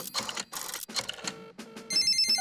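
A cartoon telephone in Peppa Pig rings with a bright, bell-like electronic tone. The ring sounds near the end, after a few brief bursts of other cartoon sound.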